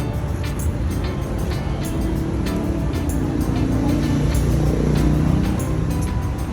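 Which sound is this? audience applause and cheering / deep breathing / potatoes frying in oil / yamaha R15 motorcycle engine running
yamaha R15 motorcycle engine running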